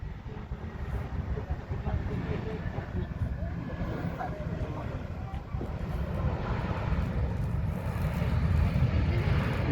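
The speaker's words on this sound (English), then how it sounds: "AirAsia is landing at KLIA, Kuala Lumpur International Airport." AirAsia airplane landing at Kuala Lumpur International Airport: a continuous low jet rumble and roar that swells slightly toward the end, heard from a distance outdoors.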